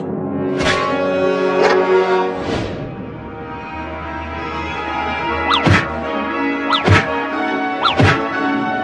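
Several loud, irregular thumps as a cat bangs against a door, spaced a second or so apart, over a steady droning hum.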